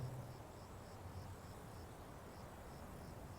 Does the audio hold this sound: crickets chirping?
yes